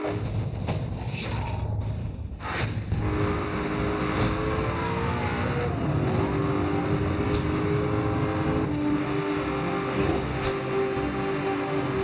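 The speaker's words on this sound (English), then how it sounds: "Vehicle just flew by." Car in NFS Hot Pursuit Remastered speeding past amid steady engine roar; a whooshing pass with a falling pitch sweep, followed by sustained engine drone and scattered sharp bumps and clicks.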